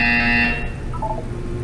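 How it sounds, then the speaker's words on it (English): In the video game Portal 2, a loud electronic buzzer sounds for about half a second, then cuts off and leaves a faint tonal hum. "You will hear a buzzer."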